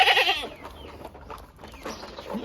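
Goats bleating close by on a farm: a loud wavering bleat opens, followed by fainter calls and a second bleat near the end, with some rustling between.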